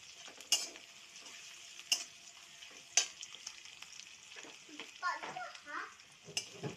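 Chopped onion fries in a pan with a soft, steady sizzle, broken by a few sharp clinks of utensils and stirring, and faint voices in the background.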